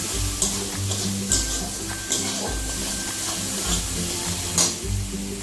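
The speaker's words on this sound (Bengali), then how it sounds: "নাড়াচাড়া দিয়ে মশলাটাকে ভালো করে ভেজে নিব।" Chili and coriander powder masala frying in a pan, a continuous sizzle broken by repeated scraping strokes of a spoon stirring, close and alone with no talk.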